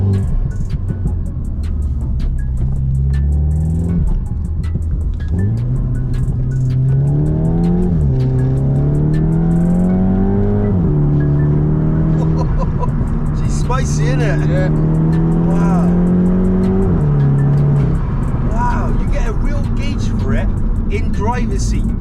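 Stage 3 Skoda Octavia vRS saloon with a DSG gearbox and 477 bhp accelerating hard, the engine note climbing through quick gear changes, loud and close from inside the cabin, with people talking over it.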